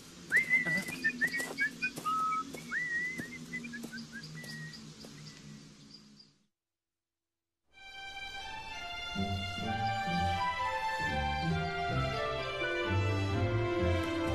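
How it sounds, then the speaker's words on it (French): Two or more people whistle a tune together in a cartoon fairy-tale scene, the melodic whistling bright and close for about six seconds, then a brief silence before a full musical score takes over. "Et sifflons pour nous donner du courage."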